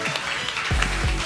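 A short burst of crowd applause, with a low rumbling voice-like hum underneath.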